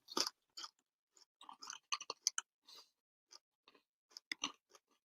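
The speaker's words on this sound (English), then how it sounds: "you've all got to listen to us crunching away" People crunching snacks at a pub, with close, crisp bites and chewing crunches in irregular bursts separated by short silences and no talking.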